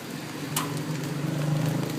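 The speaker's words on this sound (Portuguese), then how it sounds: "Chovendo." Steady rain hiss fills the air with a constant wash of patter, a brief sharper splash standing out midway.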